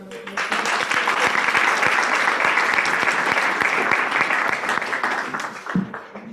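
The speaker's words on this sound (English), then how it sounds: "Let's give her another round of applause." Audience at an International Women's Day event bursts into loud, sustained applause, dense clapping that holds steady for several seconds before tapering off at the end.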